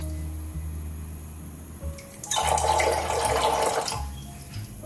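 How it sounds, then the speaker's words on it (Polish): A kitchen tap runs filtered water into a funnel, with a steady close gush of flowing water lasting a couple of seconds before it stops, over a low background hum. "Ja mam akurat taką opcję, że w jednym kranie mam zwykłą wodę, a tutaj mam już e, przefiltrowaną."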